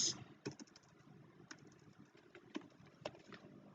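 Keystrokes typing an sqlplus command on a computer keyboard, a dozen or so soft, irregular clicks spaced across a few seconds, close and quiet over a low room hum.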